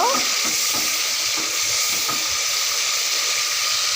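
A spice masala fries in oil, giving a loud steady hissing sizzle with soft bubbling and a few stirring scrapes early on, no voices.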